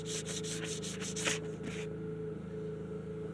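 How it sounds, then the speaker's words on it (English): Fine 600-grit sandpaper rubbing and polishing a small surface in steady back-and-forth strokes, close up, over a constant background hum, fading after about a second and a half; no one speaks. "600's pretty fine, so. Yeah, it looks like it might be polishing them up a bit."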